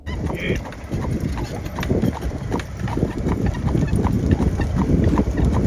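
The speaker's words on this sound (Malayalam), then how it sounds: "ഇനി ഞങ്ങളുടെ യാത്ര കുതിരവണ്ടിയിൽ" Horse hooves clip-clop steadily while pulling a buggy through an Amish village, the rhythmic clatter running throughout over rolling wheel and road noise.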